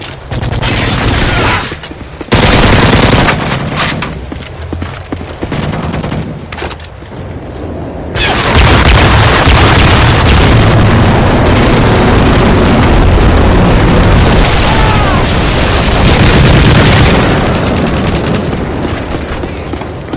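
Heavy explosions from a Predator missile strike in a Call of Duty-style multiplayer match on the Resistance map, a loud rumbling blast cluster early, then a sustained dense roar of booms and gunfire filling the rest.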